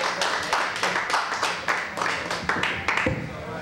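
Audience at an open mike comedy show clapping, with distinct uneven hand claps close by and a sparse, lively rhythm rather than a dense roar.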